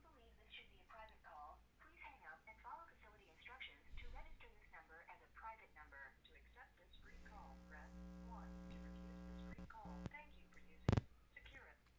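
An incoming caller connects on a radio talk show phone line. A host talks at first, then a droning, buzzy telephone-line tone with humming harmonics takes over, ending with a short sharp click.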